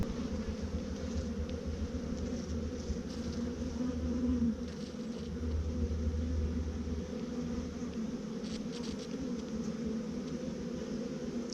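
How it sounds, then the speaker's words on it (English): A honeybee colony hums inside a hive, a steady close droning buzz with a dense layered tone that swells slightly now and then, continuous and alone without any talk. "I'm listening to their hum, and it sounds fairly content at this point."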